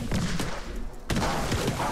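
Two heavy shotgun blasts from the video game Spider Tanks, about a second apart, each a sharp loud boom with a short decaying tail over continuous game noise.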